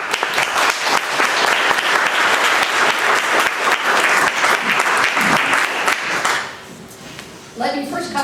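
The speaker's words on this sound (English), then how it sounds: "Let's give them a round of applause." An audience at a neighborhood association general meeting gives a round of applause for the sponsors, loud and dense for several seconds before fading quickly, after which a voice begins speaking.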